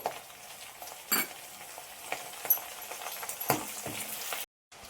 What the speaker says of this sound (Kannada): ಕರಿಬೇವು ಮೆಣಸಿನ್ಕಾಯಿ ಎಣ್ಣೆನ ಚೆನ್ನಾಗಿ ಹುರಿಬೇಕು